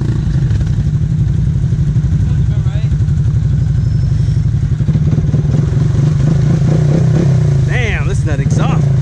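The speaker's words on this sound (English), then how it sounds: "listen to that exhaust" A loud motor vehicle engine rumbles steadily with a rasping exhaust note, swelling near the end, while a voice talks over it.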